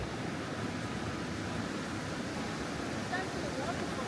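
Steady broadband rush of the Roaring River below a suspension bridge near a waterfall in Kings Canyon, constant and fairly loud throughout, with no other distinct sounds.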